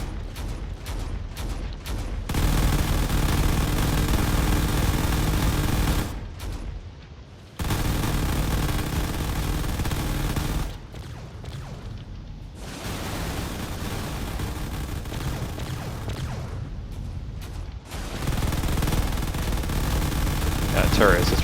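Railgun fire in the drone combat video game Drone Wars comes as dense, sustained bursts of weapon noise with a few short gaps and quieter stretches, loud throughout and mixed with other battle sounds.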